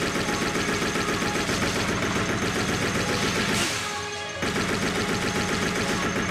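An AK rifle in Resident Evil Code Veronica X fires loud, rapid automatic bursts that run almost continuously, broken by one brief pause near the middle.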